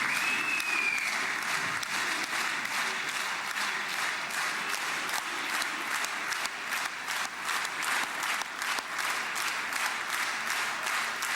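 Dense, sustained applause filling the Israeli Knesset chamber, a large crowd clapping steadily and loudly throughout with a faint whistle near the start.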